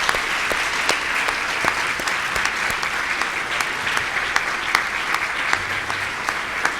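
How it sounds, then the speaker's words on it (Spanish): A large church congregation claps steadily and loudly throughout, a dense, continuous wash of applause with sharper individual claps standing out. "Démosle un fuerte aplauso al Señor."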